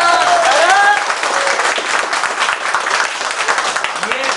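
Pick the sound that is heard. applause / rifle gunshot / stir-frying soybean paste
applause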